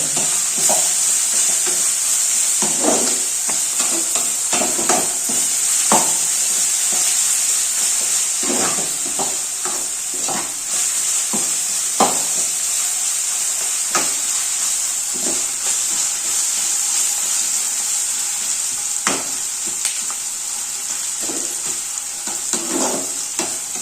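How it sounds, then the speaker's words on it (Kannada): Onions frying in a pan for beetroot palya, a continuous bright hissing sizzle with repeated scraping and clinking as they are stirred throughout. "ಇವಾಗ ನಾವು ಈರುಳ್ಳಿನ ಫ್ರೈ ಮಾಡ್ಕೊತಾ ಇದೀವಿ"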